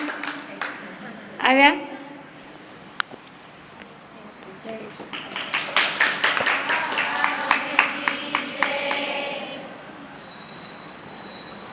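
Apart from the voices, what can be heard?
audience applauding a guest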